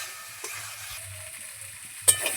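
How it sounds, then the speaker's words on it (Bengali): A Bengali spice paste with salt and turmeric, cooked for a fish curry with potato and pointed gourd, is stirred in a pan, giving soft scraping strokes over a low sizzle, with a sharper clink of the spoon near the end. "আরও 1 মিনিট মতো মশলা আমি কষিয়ে নেব।"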